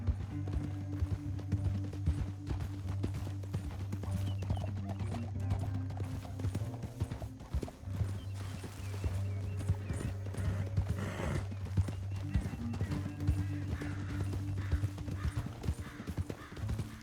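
Rapid hoofbeats clop steadily under a low droning music bed, horses running at a gallop throughout with game-like sound effects, in Red Dead Redemption 2.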